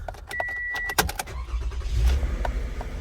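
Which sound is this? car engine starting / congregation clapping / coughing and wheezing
car engine starting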